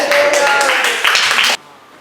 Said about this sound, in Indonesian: Haleluya, tepuk tangan.